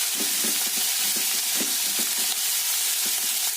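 Chopped garlic sizzling in a hot oiled pan for Bengali fish-head muri ghonto, a steady loud frying hiss with soft spoon scrapes and clicks throughout.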